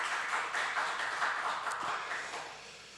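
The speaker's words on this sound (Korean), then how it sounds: "우리 박수로 좀 환영하도록 하겠습니다." A church congregation at a Tuesday prayer meeting applauds to welcome an elder, a soft, steady wash of many hands clapping together, heard from a distance and fading slightly toward the end.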